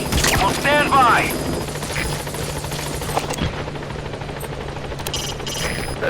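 Helicopter in Metal Gear Solid V: The Phantom Pain arriving at a landing zone, a loud steady rotor drone with a brief high whine near the start; a voice speaks over it during the opening second.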